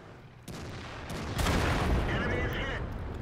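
Tank cannon fire in the World of Tanks video game, where the T26E4 SuperPershing faces an IS-3 and IS-6: a steady loud battle din that swells into a heavy, rumbling boom partway through, then stays dense and continuous.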